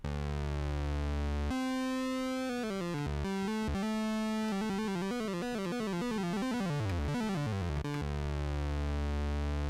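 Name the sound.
Moog Slim Phatty synthesizer patch, slightly out of tune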